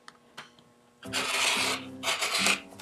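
A rotary cutter trims a paper-pieced Christmas tree quilt block, a rough, close rasping cut lasting under two seconds after a couple of faint taps.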